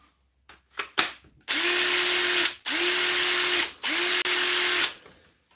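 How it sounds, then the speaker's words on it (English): A power drill whirs loudly up close in three sustained bursts, each spinning up to a steady high whine, preceded by a few clicks and handling knocks. "We'll try it on a drill as well"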